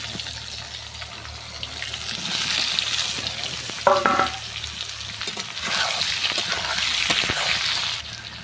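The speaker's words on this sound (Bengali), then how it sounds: "এদিকে আমার তরকারি সুন্দর রান্না হচ্ছে আলু দিয়ে এবং কচু দিয়ে কাতলা মাছের ঝোল" Katla fish curry with potato and taro cooking in a pan, a steady bubbling sizzle with occasional stirring and a brief clink, fairly close and continuous.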